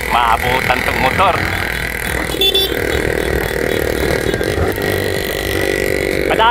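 A motorcycle engine whines past during a roadside cycling time trial, its revving tone rising and falling while someone commentates over it.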